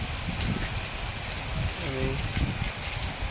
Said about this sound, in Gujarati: ખૂબ ભારે વરસાદ ચાલુ છે